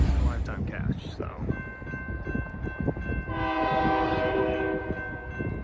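Union Pacific six-axle locomotive 6379 in Southern Pacific paint leads a passing train, with a sustained horn blast and rumbling rail noise heard from a moderate distance, and brief voices early on.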